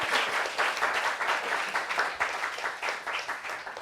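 An audience claps in a lively, slightly uneven round of applause with pulsing swells, moderately loud and continuous throughout.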